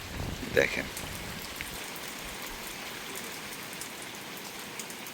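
Heavy monsoon rain pours steadily over the Sundarbans in a dense, even hiss, with someone speaking briefly near the start over the downpour.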